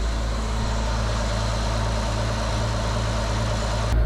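A farm vehicle's engine idles loud and close with a steady low rumble, with no voices over it.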